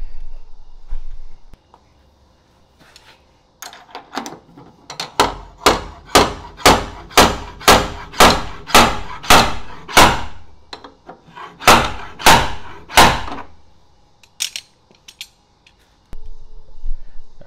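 A slide hammer pulls a dent out of metal through a welded-on washer, sounding as a run of about fifteen sharp, loud metallic clacks in a steady rhythm, broken by a short pause midway, with quiet shop noise before and after.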